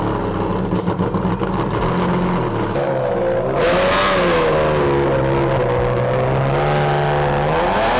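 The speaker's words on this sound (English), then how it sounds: "So here's today's Enzo cold start for you." A Ferrari Enzo starts cold, its engine firing up and settling into a loud, close, high-pitched idle with rising revs and shifting tone, no voices over it.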